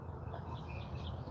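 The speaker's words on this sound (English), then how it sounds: "listening to the birds chirp" Faint, distant birds chirp now and then outdoors in a backyard garden, their small calls barely rising above a steady low rumble of background noise.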